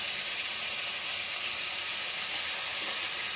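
Chicken breast sizzles steadily in a frying pan after being turned onto its other side, a dense, even hiss with soft crackle that holds throughout without talk.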